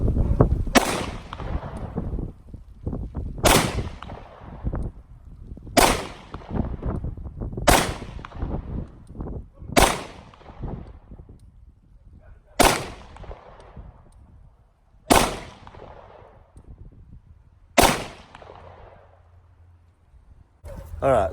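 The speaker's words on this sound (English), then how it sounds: "we'll see what kind of accuracy we can get out of this little gun by shooting a little slow" Glock 48 pistol fired slowly at a target, about eight crisp, loud shots spaced roughly two to three seconds apart, each a sharp crack with a short decay.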